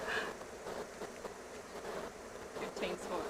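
Honeybees swarming around an opened hive during a brood inspection while a smoker is in use. A faint, continuous buzzing that wavers in strength, with occasional louder passes of bees close by.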